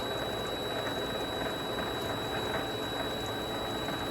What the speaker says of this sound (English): We'll go real slow, but this should be about ready to part off.